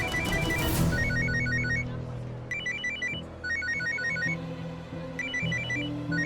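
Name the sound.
telephone ringing with an incoming call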